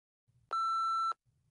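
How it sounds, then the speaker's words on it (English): A phone chimes once for an incoming text message, a clean sustained electronic beep lasting about half a second against an otherwise quiet background. "She just sent a text message back to me."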